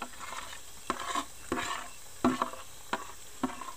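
Ginger and garlic land in a pan of frying native chicken and get stirred, giving a steady sizzle broken by several sharp scraping strokes of the spoon at an uneven rhythm, close and clear with no talk.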